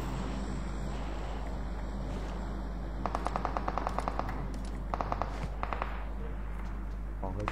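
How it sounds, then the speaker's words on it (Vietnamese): Gunfire in the mobile battle-royale game PUBG Mobile: bursts of rapid shots, some at a distance, with a louder cluster of cracks mid-way and scattered pops later over a steady background hum. "Nghe tiếng súng rồi ta."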